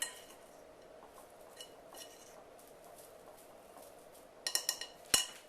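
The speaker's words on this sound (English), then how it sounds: "I'm just going to kind of whisk this together just to mix it up a little bit." Flour, baking powder and salt whisked together in a mixing bowl for a cinnamon roll cake: faint, soft scraping for most of the stretch, then a quick run of bright metallic clinks from the whisk against the bowl near the end.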